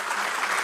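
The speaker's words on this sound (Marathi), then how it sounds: "एकदा जोरदार टाळ्या झाल्या पाहिजे" An audience at a memorial lecture series applauds, a brief, dense burst of many hands clapping that sounds steady and fairly full, with no voices over it.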